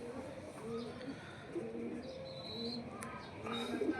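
Pigeons coo softly around a rooftop loft, with low, wavering calls repeating close by over a steady background hiss and scattered chirps.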